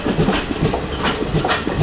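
Long passenger train in Tamil Nadu, India, clattering along the rails with a steady clickety-clack rhythm over a constant rumbling hiss, close and fairly loud throughout, with no talking.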